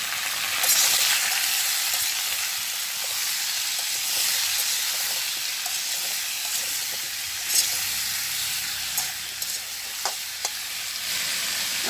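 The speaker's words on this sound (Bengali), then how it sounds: "তো তেল গরম হয়ে গেছে, আমি এখন মিষ্টি কুমড়াটা দিয়ে দিচ্ছি।" Pumpkin pieces sizzle in hot oil in a village kitchen, a steady bright frying hiss throughout with faint stirring clicks and small pops, no one talking.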